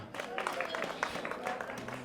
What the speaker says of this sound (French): S'il vous plaît, on applaudit encore pour elle.